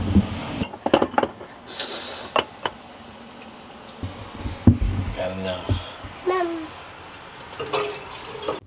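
Drinking water poured for morning coffee at a beachfront campsite in New Zealand, a short pour with light clinks of the container, heard close under casual talk.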